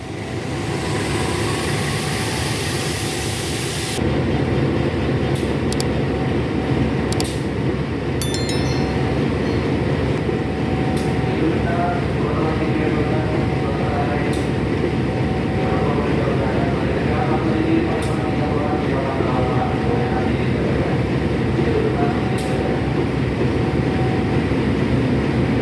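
Fajar Utama Solo passenger train pulling away from Pasar Senen station in Jakarta, a loud continuous rumble of rolling wheels and clanking cars with sharp periodic rail clicks and brief squeals, and a voice talking over it.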